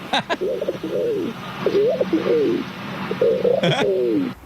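A person imitates a rock pigeon call, giving several soft, rolling coos in a row, close and clear with brief breathy pauses between phrases.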